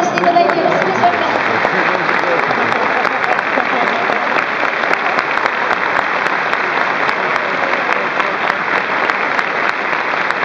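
Steady, dense applause from a crowd at a Shonan Bellmare J1 promotion celebration, filling the hall without pause from start to finish, with faint voices underneath.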